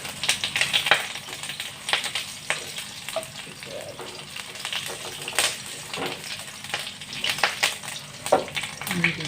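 Spices sautéing in hot oil in a pan, a continuous crackling sizzle broken by repeated scrapes and stirring clatters of a utensil, close and moderately loud.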